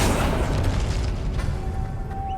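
Magic spell effects in Hogwarts Legacy on PS5 burst with a deep whooshing boom that fades into a lingering rumble and shimmer.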